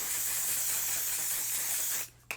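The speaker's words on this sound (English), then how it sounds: "I'm still going to spray the face one more time" A steady, close hiss of a makeup setting spray mister aimed at the face, lasting about two seconds, then stopping abruptly with a brief click.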